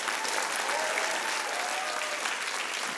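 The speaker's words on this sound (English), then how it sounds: "Give a clap," Studio audience at a live TV show bursts into loud, sustained clapping, a thick continuous wall of many hands with a few faint cheers mixed in.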